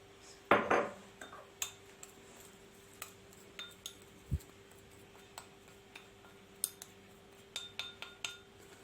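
A small spoon mixing powder with olive oil in a little dish, sparse light clinks and taps against the container, one sharper scrape near the start, quiet between strokes.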